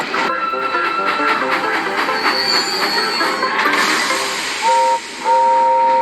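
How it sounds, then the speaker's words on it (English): Ghost steam train from a model railway story approaching, with a steady hissing chug and a sustained steam whistle that sounds late and rises in pitch, while a voice talks over the scene. "There's a ghost train ahead!"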